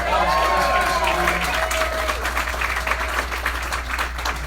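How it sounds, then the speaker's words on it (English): Rally crowd at a political event in Saginaw, Michigan, applauding and cheering loudly at first, then tapering to thinner clapping over a steady low hum, with a shout or voice briefly rising above it. "applause for Lauren."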